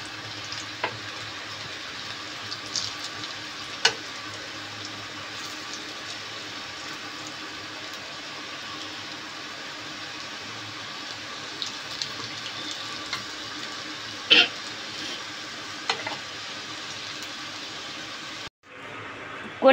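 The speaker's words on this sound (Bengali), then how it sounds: "এই বড় আলুগুলো আরেকটু ভেজে নিই।" Large potato pieces fry in a pan with a continuous soft sizzle, faint and even throughout, with a few light clicks of a utensil and a brief drop-out near the end.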